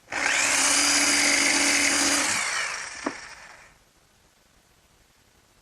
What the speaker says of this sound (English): And now I'll just finish those cuts with my jigsaw.